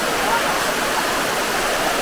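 Steady, loud rush of a waterfall at the Grutas de Tolantongo in Hidalgo, Mexico, a broad continuous roar with no breaks, close by.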